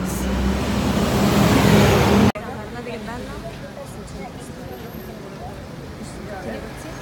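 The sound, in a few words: bus passing on the street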